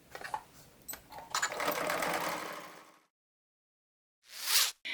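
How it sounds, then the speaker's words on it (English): A sewing machine runs a regular-length stitch on a bucket tote bag lining: one quiet, rattling burst of about three seconds, then a pause and a brief second whir. "stitch with a regular length stitch after ensuring that there are no wrinkles in the fabric"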